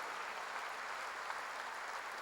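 Church congregation clapping during a sermon, an even, continuous patter of many hands, soft and distant throughout with no voices over it.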